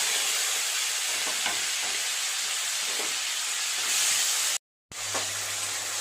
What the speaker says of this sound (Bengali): চিংড়ি মাছগুলো ভাজা হয়ে গেছে, তুলে নেব।